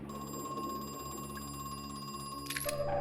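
A telephone rings inside the horror video game Crow Country, a steady electronic bell tone repeating over a droning ambient background, with brief sharper sounds near the end.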